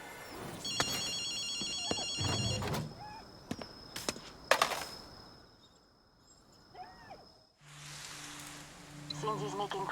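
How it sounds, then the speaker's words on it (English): A telephone rings in the Ghostwire: Tokyo video game, giving a repeated electronic trill in short bursts alongside game sound effects, with a bright tone heard faintly through the middle. "Akito, you hear a phone ringing?"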